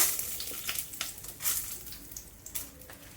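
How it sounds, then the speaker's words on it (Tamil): Urad dal and chana dal fry in oil in a pan for a chutney, giving a soft crackling sizzle with scattered pops and faint stirring scrapes, quiet and steady throughout. "வானல் வச்சு எண்ணெய் ஊற்றியாச்சு எல்லாத்தையும் நல்லா வறுத்துக்கலாம்"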